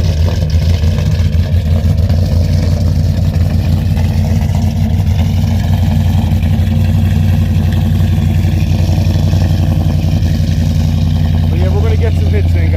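A warmed-up Ram pickup truck engine with aftermarket heads and cam idles steadily up close, a constant low rumble filling the whole stretch.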